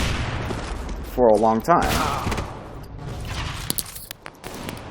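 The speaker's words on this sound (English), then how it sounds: "Everyone's just firing op shots, and it's like an explosion going off in my ear" Loud, dense gunfire from a CS:GO deathmatch, with overlapping shots and booming bursts, mostly in the second half, while someone talks over the first part.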